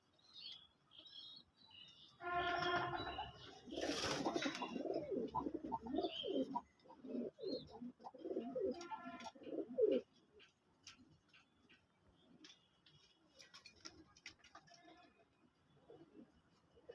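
Pakistani teddy pigeons coo in a loft, giving soft, low repeated coos amid rustling, wing flutters and scattered chirps. A louder burst of movement and flapping comes early on, then the sounds thin out to quieter, intermittent cooing.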